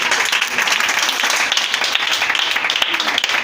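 A church congregation applauds loudly and continuously, a dense wash of many hands clapping together close by, with voices mixed into it.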